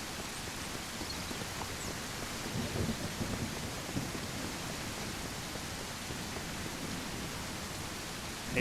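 Steady rain hisses through the Mist Survival game world, with low rumbling thunder rolling faintly beneath, a constant wash of noise from start to finish with no voices.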